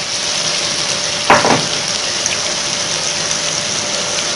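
Yogurt poured into chicken white karahi frying with chillies, a constant hiss of sizzling oil with a short louder burst of gushing sputter as it goes in, then settling back to an even fry.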